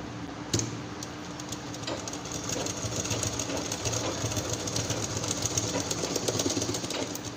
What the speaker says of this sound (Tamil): இப்போது சென்டராக பிடிச்சிட்டு இங்கேருந்து இங்கே வரைக்கும் ஒரு தையல் போட்டுக்கலாம்